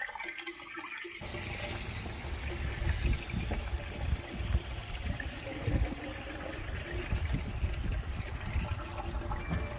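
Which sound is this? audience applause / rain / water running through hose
water running through hose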